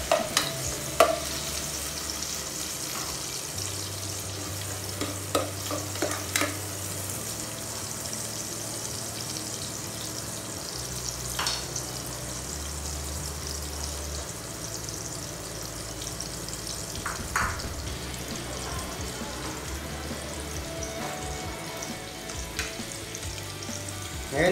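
Onions sautéing in a pan for ginataang kalabasa with shrimp, a steady close sizzle and fry broken by occasional clinks and scrapes of stirring, with no voices.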